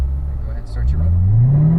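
A car on a practice run for heel-toe downshifting, its engine rising steadily in pitch as it accelerates, close and fairly loud, with a brief dip partway through.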